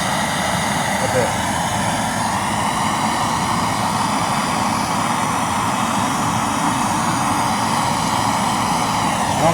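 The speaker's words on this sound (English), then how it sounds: "We're just going to heat up this inner race a bit." A torch heats the inner race of a bearing during a Mack power divider rebuild, producing a loud, steady, broadband roar that fills the whole stretch without breaks.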